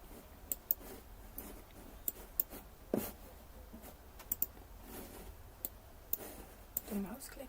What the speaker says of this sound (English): The mouse clicks are distracting.